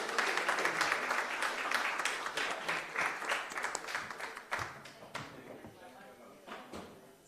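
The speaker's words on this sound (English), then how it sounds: "a big hand of applause for you" Audience applause at a morning session of a business expo in Curaçao, a dense burst of clapping from many hands that thins out over several seconds into scattered individual claps, with faint voices murmuring underneath.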